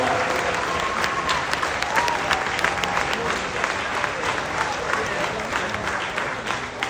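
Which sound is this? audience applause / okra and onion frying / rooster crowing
audience applause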